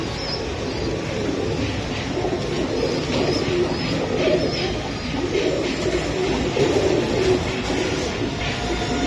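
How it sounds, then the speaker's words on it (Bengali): Pigeons cooing at a pigeon sale, soft low coos repeating over a busy rumbling background of market noise, fairly close and continuous with no clear talk. "একদম কোয়ালিটিফুল একটা কবুতর।"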